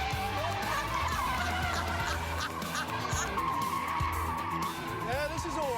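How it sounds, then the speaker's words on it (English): A BMW F32 435i skids with a steady, loud tyre squeal under its engine note, running continuously for several seconds. "It just does massive skids really easily."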